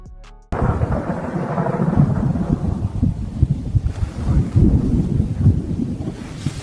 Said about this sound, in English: This man was filming the thunderstorm when this shocking phenomenon occurred.